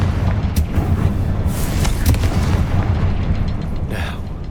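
The Confringo fire-blast spell from Hogwarts Legacy, cast in a cavern battle: loud, rumbling explosive booms with sharp cracks over a dense roar of combat noise, sustained and close.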